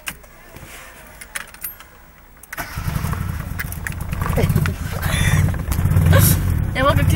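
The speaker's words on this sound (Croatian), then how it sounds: "Lancer 90. godište radi bez ključa. Napomena radi na 2 klipa." A 1990 Mitsubishi Lancer with a fault that leaves it running on only two cylinders cranks and catches partway through, then idles in a rough, uneven, pulsing chug, preceded by faint clicks and rattles, with a voice speaking over it.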